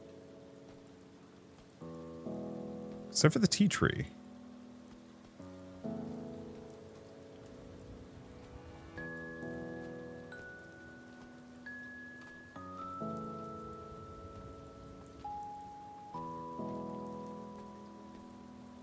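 Acid rain in a farming simulator video game falls as a soft, steady patter beneath calm melodic game music, with a brief louder burst near the start and a few spoken words over it.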